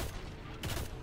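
Video game gunfire in Destiny crackles in a dense, muffled burst amid a constant low rumble of combat noise, fairly faint.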